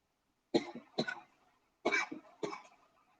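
Four sharp coughs close up, in two pairs separated by a short pause, each burst harsh and brief against quiet.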